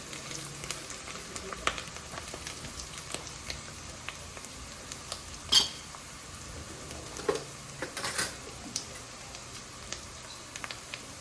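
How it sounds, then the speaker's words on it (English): Onions, ginger and garlic frying in a pot for a lentil coconut soup, a faint low crackle with scattered ticks and an occasional louder scrape of stirring, quiet and close. "As you can see, the onions are turning brown slowly, so the ginger and the garlic are also getting cooked."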